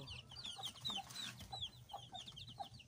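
Small chicks on a little farm peep in quick, high chirps, close and fairly soft, with a low rustling underneath.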